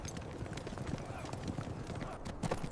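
Several horses clip-clopping across open plain ground, with a dense, uneven patter of hooves at moderate distance and a low breathy rumble beneath, under a faint voice.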